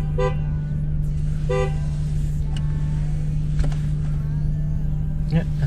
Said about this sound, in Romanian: S-a trezit el, mă, să claxoneze